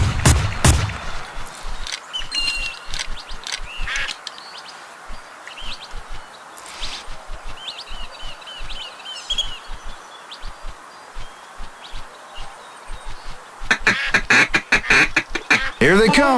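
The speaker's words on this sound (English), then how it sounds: "Okay, John Luke, let's hunt some ducks." Cartoonish duck quacks from a duck hunting video game, short repeated calls scattered over a steady ambient bed, with a denser burst of game sounds near the end.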